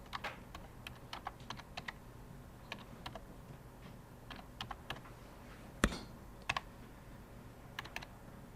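Keys on a calculator are tapped in a physics classroom, quiet irregular clicks scattered over several seconds with one sharper tap near the end.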